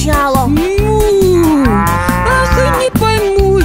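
A cartoon cow moos in a long drawn-out call, loud and close, over a bouncy music backing with a steady beat in a children's animal song.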